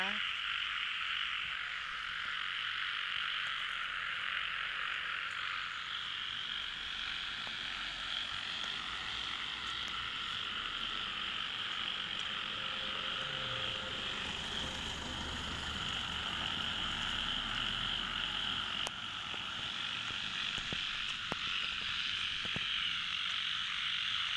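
Frogs croak in a dense chorus along a neighborhood lane at evening, a continuous overlapping trill with a faint low rumble passing in the background.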